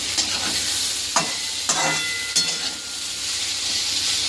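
Fried bitter gourd with green chili and tomato is stirred in a hot pan, a loud continuous sizzle broken by several scraping strokes of the spatula.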